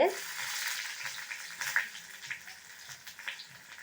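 Dried red chillies and crushed garlic crackle and sizzle in hot oil for tempering carrot chutney, a busy frying hiss with small pops, moderately close and without talk.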